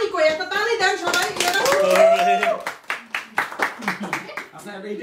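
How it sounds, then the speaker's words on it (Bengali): People clap together at a birthday celebration, a loose burst of claps that gives way to scattered, uneven hand claps over several seconds, with voices talking over them. "আচ্ছা তালি কই, একটা তালি দেন সবাই।"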